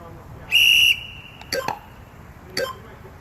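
A sharp, steady whistle blast sounds once as a pull-up timing signal, followed by two brief clanking knocks, with quiet room noise between.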